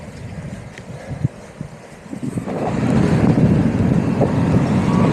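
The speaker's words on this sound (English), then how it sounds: "Drafting a tractor" A tractor travels along a main road, its low engine rumble building to a steady, close drone mixed with wind buffeting from moving through the air.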